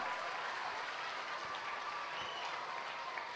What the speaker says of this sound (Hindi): Please everyone give a huge round of applause for our dance teachers.